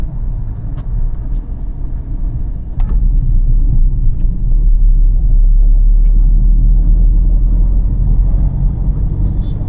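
A car engine in city driving pulling away in second gear as the clutch is eased out, a steady low rumble that swells a little louder after the first few seconds and holds, with faint traffic noise around it.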